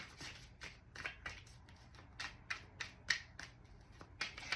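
Tarot cards being shuffled and pulled from a deck, a series of quiet, close riffling and flicking bursts at an irregular rhythm with soft slaps between them, no talking.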